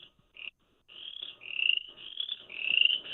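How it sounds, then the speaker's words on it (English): Crickets chirp outdoors in steady, high-pitched pulsing trains that start in short bursts and settle into a near-continuous trill, fairly close and moderately loud, with no talking. "I hear crickets."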